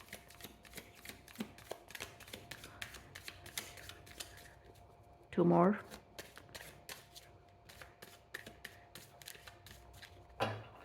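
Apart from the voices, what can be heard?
shuffling a deck of cards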